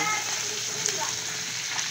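Fish sizzles steadily in hot oil in a pan, a continuous close crackle and hiss with no talking over it.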